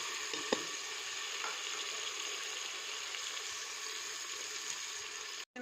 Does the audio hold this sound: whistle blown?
no